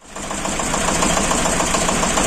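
A Shifeng 240 mini tractor engine runs steadily at idle with a wobbling pulley, giving a loud, continuous rhythmic knocking chug with vibration and no talk.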